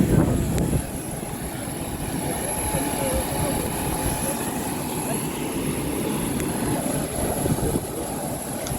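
Steady broadband roar of an airplane engine heard from outside while boarding, continuous and fairly loud throughout with a brief louder swell at the start and end.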